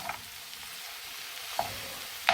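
Eggplant pieces frying in a modest amount of oil in a pan, a steady soft sizzle with a few sharp stirring scrapes near the start, middle and end, close by with no talk.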